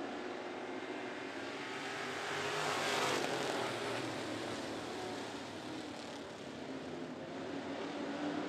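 Classic race cars racing at 411 Motor Speedway, a faint, distant wash of engines that swells briefly as cars pass and then holds as a steady broad roar.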